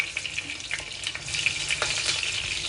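Food deep frying in hot oil makes a continuous, soft crackling sizzle with small irregular pops, fairly quiet and steady throughout.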